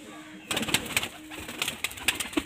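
A Kalpara Kaldom pigeon gives a few low coos amid loud, rapid bursts of flapping wings close by as it takes off, after a brief quiet start.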